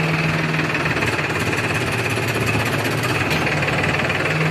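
An Escorts Powertrac tractor engine runs at a low idle around 600 rpm, a loud, close, steady diesel knocking and rattling throb that continues unbroken throughout.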